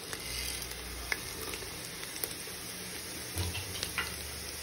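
Whole spices — peppercorns, black cardamom, cloves and green cardamom — sizzle in a pot as the base of a mutton stew, a steady close hiss with a few faint clinks and stirring scrapes, no voices.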